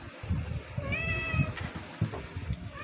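A pet cat meows insistently in a kitchen while tilapia is being pan-grilled, two or three short close-up meows over a low background of cooking noise.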